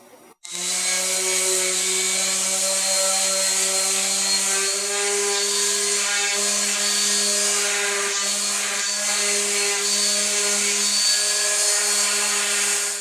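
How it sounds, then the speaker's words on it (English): A power tool whines steadily at a constant high pitch for several seconds, close and loud, with no talking, while lightly sanding small wood pieces with 120-grit sandpaper. "I'm just going to give this a light sanding with some 120 grit."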